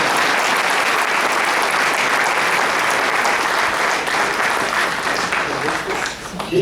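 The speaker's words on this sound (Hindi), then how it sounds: "ठीक आ रही है तो आप तालियां बजा देंगे" Sustained, dense applause from an audience at a Hindi comic poetry gathering (hasya kavi sammelan), a steady wash of many hands clapping at close range that thins slightly near the end.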